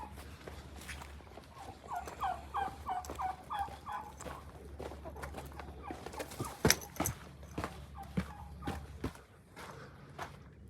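A very large backyard hen on an urban farm makes a run of repeated clucks and gobbling calls, close by and moderately loud, with farmyard noise around it.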